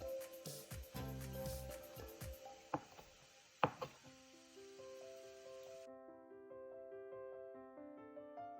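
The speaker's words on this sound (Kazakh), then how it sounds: "мінекей турап болдық" A knife chopping salad ingredients on a board, a few quick faint rhythmic taps followed by a couple of sharper cuts, under soft background music.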